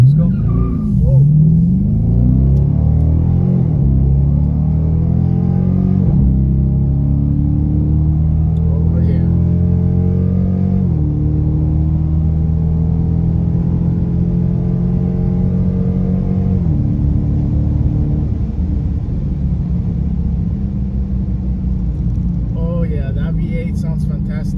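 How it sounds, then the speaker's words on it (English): Dodge Charger R/T with a Hemi V8 accelerating hard from inside the car, a loud, steady low rumble climbing through several gear-shift steps, with a brief exclamation early on. "V8 sounds fantastic. I love the sound of it."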